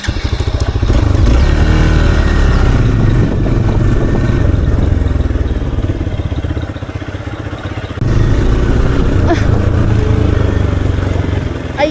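A motorbike engine runs steadily and loudly close by, holding a constant drone with a brief dip and surge partway through, while muffled voices speak underneath.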